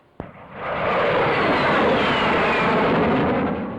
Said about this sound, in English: screaming from the rooftops to the stratosphere, the jet is opening realms of height and speed hitherto unknown to British test pilots like John Cunningham and John Derry